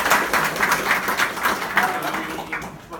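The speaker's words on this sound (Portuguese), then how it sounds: "Então, palmas." An audience at a PHP DevOps tech talk claps after the session ends, a crowd of hands beating in a loose, rippling rhythm that slowly fades toward the end.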